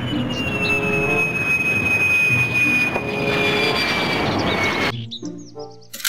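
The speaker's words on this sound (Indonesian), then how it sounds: "Pesawat jet tempur." A toy fighter jet plays an electronic engine effect: a loud, roaring jet rush with a high whine that slowly falls in pitch. It cuts off abruptly, leaving a few brief chirpy tones.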